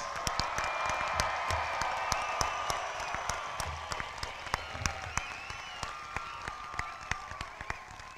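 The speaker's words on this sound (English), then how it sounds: "One big round of applause for our 2023 graduates." A crowd at a high school graduation applauds steadily for several seconds, a dense wash of clapping with a few sharper individual claps standing out.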